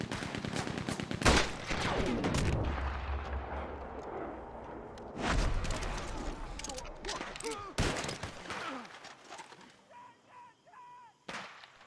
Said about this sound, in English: He's going for the Gatling! Look out! He's firing!